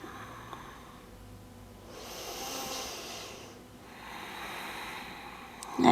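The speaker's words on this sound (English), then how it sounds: "Breathing in and out of the nose, and just by locking the back of the throat, we create the sound of the ocean." Ujjayi breathing in and out through the nose with a constricted throat during a yoga flow, producing slow, soft, ocean-like hissing breaths in long swells, close and alone without talk.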